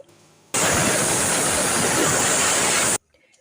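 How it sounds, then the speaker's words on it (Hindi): A pressure cooker on a gas stove, cooking bottle gourd for raita, lets out a loud hissing whistle of escaping steam that lasts about two and a half seconds, then cuts off abruptly into quiet. "कुकर में आ गई है 2 सीटी।"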